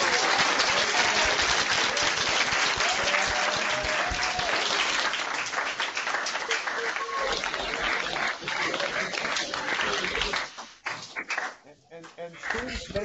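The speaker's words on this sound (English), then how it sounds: "giving a round of applause to Pro Football" High school students applauding together in a long, steady wash of clapping that thins and breaks up toward the end, with some voices and faint barking-like noises mixed in.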